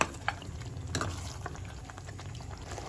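Mutton for Rajasthani laal maas is stirred in a pan over a raised flame, giving a steady wet bubbling and sizzling with occasional scraping knocks, close and moderately loud, with no speech.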